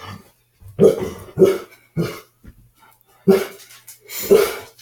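Close, loud guard dog barking indoors in a quick irregular series of deep woofs, with short pauses between bursts and no talking.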